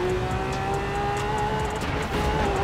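A car engine echoing through a tunnel in the racing game Forza Horizon 4, driven with a steering wheel, holds a steady high-pitched whine at speed, loud and continuous with no talking over it.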